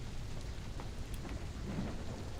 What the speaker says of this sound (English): you can hear the pummeling sounds of the rain hitting the shutters